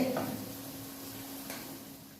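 Ghee heats in a pan on a home kitchen stove, giving a soft, steady sizzle with a brief clink near the start.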